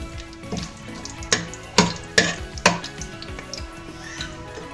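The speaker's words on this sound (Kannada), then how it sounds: "ಸ್ಪೈಸಸ್ ಇಷ್ಟು ಫ್ರೈ ಆದರೆ ಸಾಕು." Whole spices fry in ghee in a pan for mushroom biryani, a steady soft sizzle broken by several sharp stirring knocks and pops near the middle of the clip, close and moderately loud with no talking.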